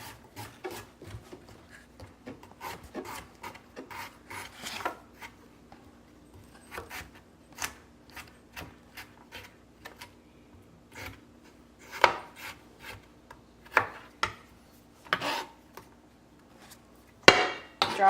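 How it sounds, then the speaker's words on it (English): Knife slicing fresh turmeric root on a cutting board in a home kitchen, a run of crisp, close chops and taps in irregular rhythm with short pauses between cuts, with a steady low hum underneath. "I'm going to grab my turmeric and you're just going to slice it up."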